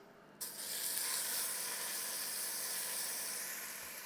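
Chicken pieces hit a hot pan at about 400 degrees and sear with a sudden, steady sizzle that holds strongly for several seconds, close and bright, with no talking.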